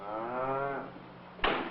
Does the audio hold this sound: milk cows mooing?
yes